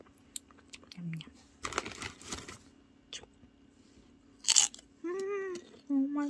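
Crunchy, spicy snack being bitten and chewed up close, with a few crisp crunches and bites scattered among short bursts of speech-like sound and brief higher tones.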